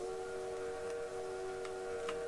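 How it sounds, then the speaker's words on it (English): An LNER A4 steam locomotive's whistle in Train Simulator Classic sounds as a continuous steady tone over hiss, with a few faint clicks scattered through it and no speech. "Whistle 4 sounds like this."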